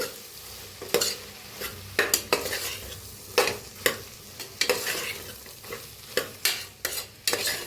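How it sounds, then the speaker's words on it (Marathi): Spoon stirring red chilli powder, green chillies and spices in a hot pan for soya pulao, with repeated scraping strokes in an irregular rhythm over a soft sizzle, close and clear. "तर आता छान मिक्स करून घेऊया"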